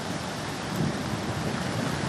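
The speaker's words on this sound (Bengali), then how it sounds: "শহরে রাত থেকে সকাল পর্যন্ত বৃষ্টিপাত এবং কি এখনও পর্যন্ত বৃষ্টি কলকাতায়" Heavy monsoon rain falling over Kolkata during a low-pressure spell, a dense, even roar of downpour without pause.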